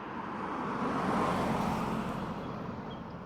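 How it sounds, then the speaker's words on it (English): A car drives by on a quiet residential street in Warner Robins, a steady broadband tire and engine whoosh that swells to a peak midway and eases off slightly, with no voices. "except for the once in a while car that drives by"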